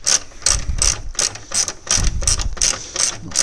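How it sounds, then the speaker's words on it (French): A ratchet with a long extension loosens a 13 mm bolt on an Opel Mokka battery mount. It gives about nine sharp, regular clicking strokes, close and loud, with no talking. "Avec le cliquet et la grande rallonge, donc, on se positionne sur la vis"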